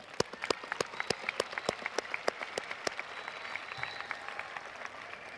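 Graduation audience at a 2022 New Caney High School ceremony applauding, with dense steady clapping from a large crowd broken by sharp individual claps, sustained for several seconds without speech.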